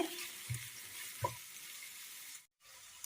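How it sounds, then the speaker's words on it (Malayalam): Chopped vegetables with bajji chillies sautéing in a pan, a quiet continuous sizzle broken by a couple of soft stirring knocks and a brief dropout near the end. "നന്നായി ഒന്ന് വഴണ്ട് വരട്ടെ"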